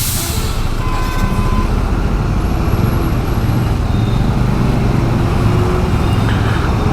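Dense road traffic streams on a bridge in Uttarakhand as a steady, loud roar of cars and trucks, with no breaks and faint higher hisses drifting over the continuous rumble.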